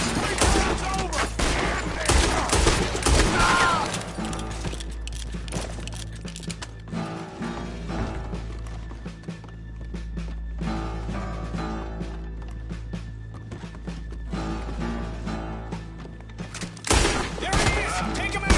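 Gunfire in a Red Dead Redemption 2 shootout, scattered bursts of gunshots with heavy low booms and galloping hooves, mixed with game music and character voices.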